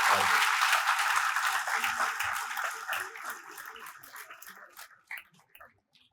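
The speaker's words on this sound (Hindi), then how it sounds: "बहुत विराट तालियां मैं चाहूंगा अपने बड़े भाई के लिए" Audience applause at a Hindi kavi sammelan poetry recital in Chandigarh, a dense burst of clapping that starts loud and full, then gradually thins and fades out over several seconds.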